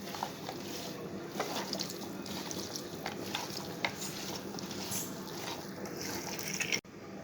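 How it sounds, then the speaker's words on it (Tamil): Chicken pieces are mixed by hand with masala and salt, giving a steady, close, soft wet squishing and stirring that carries on throughout and stops sharply near the end. "நல்லா கையை வச்சு ஒரு பரட்டி விட்டுக்கலாம்."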